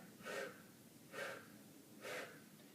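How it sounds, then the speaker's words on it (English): Three slow, deep breaths come in a steady rhythm, each a soft breathy rush taken during a spine rotation stretch with a MyoTool, close and quiet with nothing else heard. "Now I can also add a little breath in there."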